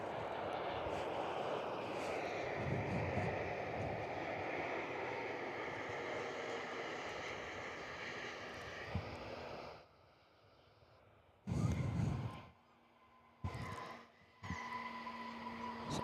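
An Airbus A321neo airliner on approach to Perth Airport gives a sustained jet roar that builds and holds, then drops away abruptly, followed by bursts of wind-like buffeting noise.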